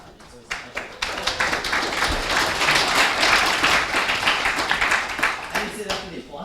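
A tech meetup audience breaks into applause that swells from scattered claps into a full, dense round and then begins to thin toward the end.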